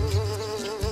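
A fly in the video game The Emperor's New Groove buzzes close and steady with a wavering whine, lasting under a second and heard on its own.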